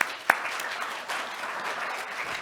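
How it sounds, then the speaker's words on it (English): Brief burst of crowd applause in a conference session on integrated emergency services, fairly steady, with a single sharper clap or knock near the start. "A round of applause for those guys"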